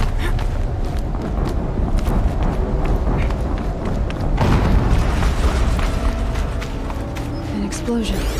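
A deep, rumbling explosion booms in the Horizon Zero Dawn video game, a dense low roar that swells midway amid continuous game noise and voices.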